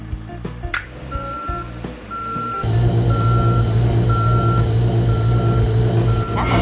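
A heavy drill truck engine in a children's video game revs up into a loud steady hum as the drill is raised, while evenly spaced electronic beeps repeat over it, with a few clicks beforehand.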